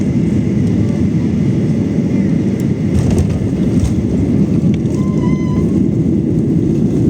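Steady low roar of an airliner cabin just after landing in Kuala Lumpur at the end of a 3.5-hour flight, a continuous broadband engine and air-system drone throughout with faint brief tones and murmur above it.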